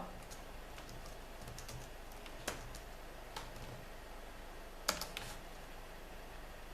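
A computer keyboard is tapped while entering a pacstrap command for an Arch Linux install, sparse quiet keystrokes with a few sharper clicks, close by in a quiet room, no talk.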